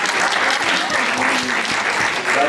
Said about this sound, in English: Let's clap for you.